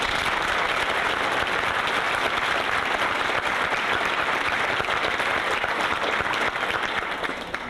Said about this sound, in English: students applauded for other students